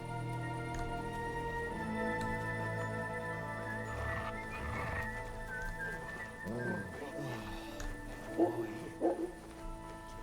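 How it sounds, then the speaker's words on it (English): A dog barks in the medieval video game Kingdom Come: Deliverance II, with a few short barks near the end of the clip. Soft rain-like ambience plays underneath, and the barks are faint and sit under a voice. "Such a naughty dog."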